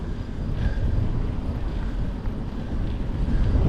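Steady wind buffets the microphone on an open road during a cycling trip near the Slovakia–Hungary border, a continuous low rumbling roar that fills the whole stretch without a break.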